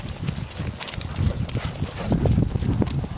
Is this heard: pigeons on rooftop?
no